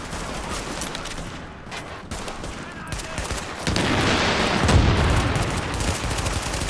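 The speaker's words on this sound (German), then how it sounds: "Ich schmeiß eine Granate!" Rapid gunfire rattles through a firefight in the video game The Division, swelling into a heavier, louder barrage of shots and a grenade blast partway through, with faint voices now and then.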